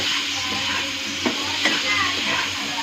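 A spoon stirs frying food in a pan while it sizzles steadily, with a couple of sharp scrapes against the pan partway through and no talking.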